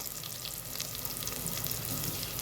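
Ginger garlic paste fries in hot oil for egg biryani, giving a steady, close, continuous sizzle with no talking.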